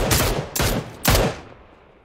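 Three loud, closely spaced gunshot bursts ring out in PUBG gameplay, each a sharp broadband crack with a short decaying tail, the last trailing off into quiet.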